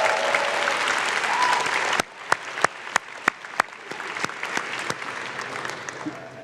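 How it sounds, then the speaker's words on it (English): A Match Day audience gives a round of applause for families and friends. Dense, close crowd clapping breaks off abruptly, then a handful of scattered individual claps trail on, with a few more claps and murmurs rising again near the end. "Let's give a round of applause to them too."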